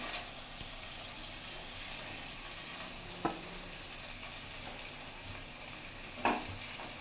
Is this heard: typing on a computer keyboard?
no